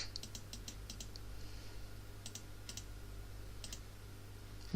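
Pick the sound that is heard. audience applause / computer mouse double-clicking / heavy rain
computer mouse double-clicking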